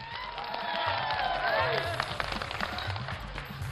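Crowd of townspeople at an outdoor public gathering in Purnia breaking into a burst of clapping, a dense patter that swells and then thins, heard at moderate distance with a voice over it.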